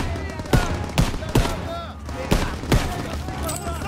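Rifle fire in the World War II shooter Call of Duty WW2, sharp shots cracking out in short bursts at irregular intervals, loud and close over a busy battlefield background.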